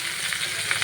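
Potatoes fry in a pan with a brief, close sizzle, soft stirring scrapes audible in the crackle.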